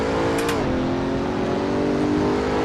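Pagani Huayra BC supercar in the Assetto Corsa racing game, its engine droning loudly and steadily under power as it pulls out of a corner, with a brief high whoosh near the start and no talking.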